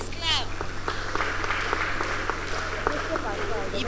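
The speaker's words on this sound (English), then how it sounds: "Please clap." A youth forum audience applauds in a scattered, moderately loud patter of claps while a voice talks over it.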